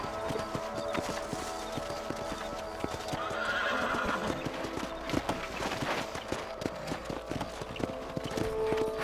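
Horse hooves clip-clop at a gallop in the Red Dead Redemption western game, a steady, fast, close rhythm with a neigh or whinny and layered game sound around it.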